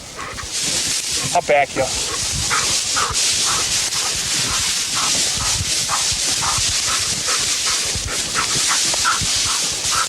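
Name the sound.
hunting dog whimpering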